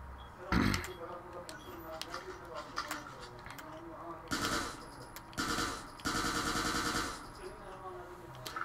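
Gunfire rings out in the video game Watch Dogs 2, in several sharp bursts of rapid automatic shots with short gaps between them. Voices chatter underneath.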